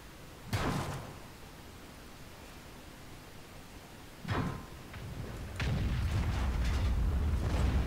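Tank cannon fire in the World of Tanks video game, with two sharp booming shots a few seconds apart over background noise, followed by a louder sustained rumble.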